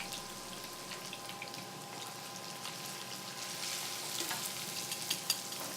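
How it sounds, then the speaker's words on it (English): Garlic, carrots and onions sautéing in olive oil for risotto: a steady, fairly quiet hiss of frying with small crackles and light stirring, no talk. "Add our garlic, our carrots, our onions, and we'll get a saute going here."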